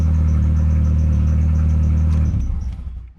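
A MK4 Jetta with the 1.8T engine idles loud and close in a steady low rumble, then winds down and cuts off near the end.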